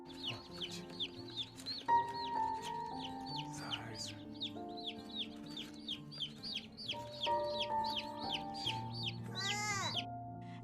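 A cute little group of baby chicks peeps and cheeps in a busy high chorus, close by, with a steady run of short chirps and clucky calls over quiet background music.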